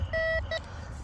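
Metal detector beeping over a buried piece of aluminium can, two close electronic tones: a longer beep then a short one, clear and steady against low background rumble.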